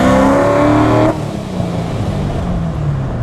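A Hennessey HPE1000 Corvette Z06, a modified C7 with the factory cat-back exhaust and performance valves, accelerates hard with a loud rising exhaust note, then shifts and settles into a lower, steady drone, heard close.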